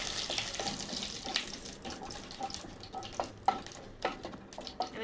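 Cumin seeds, two bay leaves and a dried red chilli stirred in hot oil in a pan, a soft steady sizzle broken by light, irregular scrapes and taps of the spoon, fairly quiet with no talking.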